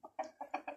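A chicken clucks in a short burst of four or five quick, moderately quiet calls, with no talk.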